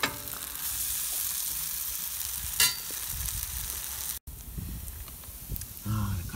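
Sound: vegan patties frying in cast iron pan

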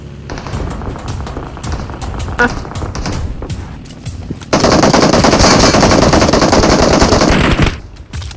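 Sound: gunfire in PUBG Mobile video game

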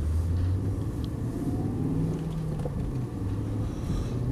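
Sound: BMW M5 V8 engine driving

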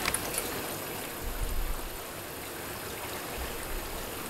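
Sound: water flowing into a dishwasher

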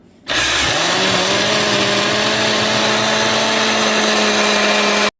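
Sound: blender grinding glutinous rice

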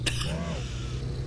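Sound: person coughing

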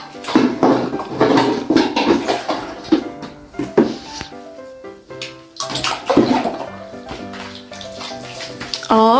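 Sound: rinsing a toy rabbit with water in a bathtub

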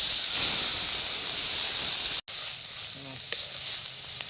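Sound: chopped onion and onion paste sizzling in hot oil for crab curry

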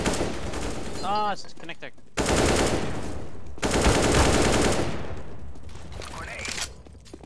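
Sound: gunfire in a video game playtest

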